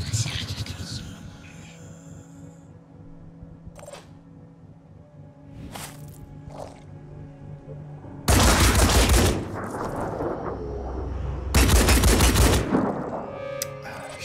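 Two loud bursts of automatic gunfire in the turn-based tactics game Phoenix Point, each lasting about a second, separated by a short gap, with quieter game sounds before and between them.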